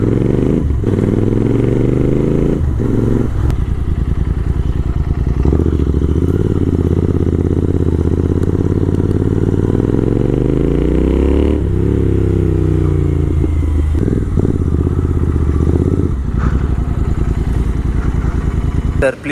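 Royal Enfield Interceptor 650 and Super Meteor motorcycles on a highway ride, a loud continuous engine drone with rising and falling revs through gear changes and some clatter, heard up close throughout.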